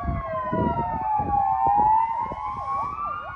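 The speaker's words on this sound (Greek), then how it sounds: "Τα σενοφόρα τρέχουν σαν τρελά, οι πυροσβεστικές." Wailing emergency sirens from ambulances and fire engines during a wildfire in Alexandroupolis, several overlapping rising and falling tones, loud and near, over engine rumble with no talk.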